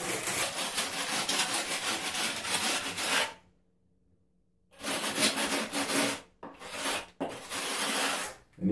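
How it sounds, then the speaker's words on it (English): A trowel presses and smooths mortar on a shower curb, giving a steady rasping scrape in long broadband passes broken by brief pauses, close and fairly loud with no talk. "I'm actually pressing and smoothing the mortar."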